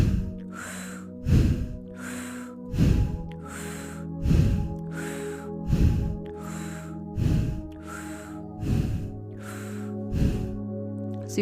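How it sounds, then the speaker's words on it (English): Forceful kundalini yoga breathing, a full inhale through the mouth and a complete exhale through the nose, repeated in about eight steady, evenly spaced strokes, close and breathy over faint background music. "So they should be powerful, complete inhales and exhales."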